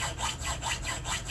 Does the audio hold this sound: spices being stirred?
no